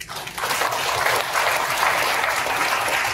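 An audience at a public history lecture bursts into applause, building quickly after a brief quiet start into a steady, dense clapping that carries on to the end.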